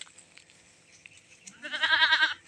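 A farm goat lets out one loud, wavering bleat close by, following a stretch of quiet background.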